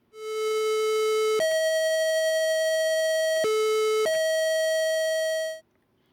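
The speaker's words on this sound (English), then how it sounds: "as we send the signal back into itself, this can create some really interesting sounds" A no-input mixing board feeds back on itself, giving a loud, steady, buzzy tone rich in overtones that jumps between two pitches several times before cutting off after about five seconds.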